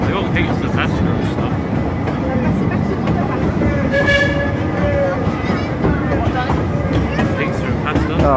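The railway train at Efteling theme park rumbles past continuously with a steady rolling roar, and a brief tonal whistle or horn-like note is heard midway, while people talk over it.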